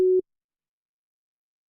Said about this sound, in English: there's a sine wave.